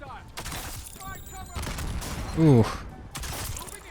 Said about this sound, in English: Let's go ahead and throw our explosive bolts on here.